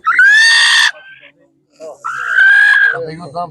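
Hens at a village animal fair in Korolivka, a couple of drawn-out, loud clucking calls rising and holding close by, with a short gap between them and soft voices and shuffling near the end.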